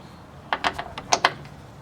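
A torque wrench ratchets on 14 millimeter flange nuts during a Bilstein B12 suspension install on a 2006 Honda/Acura CL9, giving a short burst of about six quick, close metallic clicks in an otherwise quiet space.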